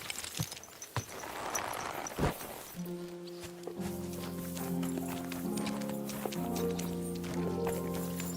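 A horse in the video game Kingdom Come: Deliverance 2 walks with rhythmic clip-clop hoof steps, close and moderately loud, under sustained musical tones and ambient game sound.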